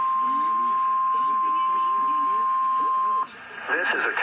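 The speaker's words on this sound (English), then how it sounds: "This is a test of the Emergency Alert System and NOAA Weather Radio's warning alarm." Steady single-pitch warning tone from an Emergency Alert System and NOAA Weather Radio test, a continuous alarm beep running about three seconds with a voice underneath, then cutting off as an announcer begins speaking.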